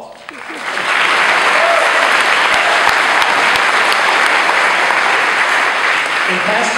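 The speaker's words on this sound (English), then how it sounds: "applause." At a university fraternity variety show awards ceremony, an audience bursts into sustained applause, a dense, even roar of many hands that swells quickly and holds steady.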